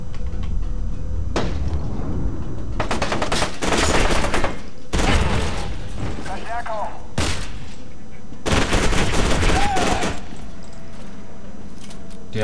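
Bursts of enemy shotgun or submachine-gun fire in the shooter FEAR 2 crack out in several loud, dense clusters, separated by quieter stretches of game ambience.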